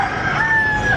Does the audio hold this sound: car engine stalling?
no